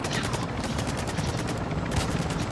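Rapid automatic gunfire rattles through a firefight in Call of Duty MWII DMZ at Al Mazrah, loud continuous bursts with a helicopter-like drone in the mix and no talking.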